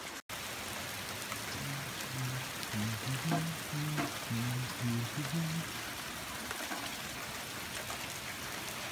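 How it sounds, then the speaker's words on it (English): Heavy rain pours steadily outdoors during a storm, a dense, continuous hiss of drops close by with a faint voice briefly under it. "it is raining like crazy out here"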